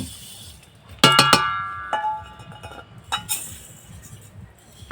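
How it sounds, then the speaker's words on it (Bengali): Moong and masoor lentils are added to a pan, opening with a bright cluster of metallic clinks and rattles near one second, followed by scattered lighter taps and pattering, close and fairly loud, with no voices. "তো মুগ ডাল আর মসুর ডাল সম পরিমাণ আমি দিয়ে দেব"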